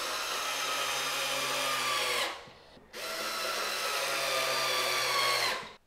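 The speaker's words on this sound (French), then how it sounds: "je vous conseille un tournevis électrique, une perceuse visseuse dévisseuse" An electric screwdriver drives screws into a standing desk frame in two loud, steady whirring bursts, separated by a brief pause and ending with a spin-down.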